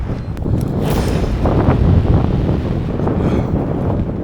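Strong wind buffets the microphone during an electric bike tour, producing a loud, continuous roaring rumble with gusty surges throughout.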